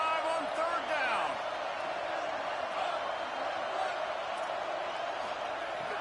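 Steady roar of a big Ohio State Buckeyes stadium crowd cheering on third down in a college football video game, a dense continuous wash of noise throughout with a commentator's voice partly over it.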